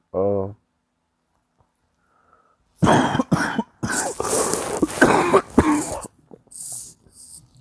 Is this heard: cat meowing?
no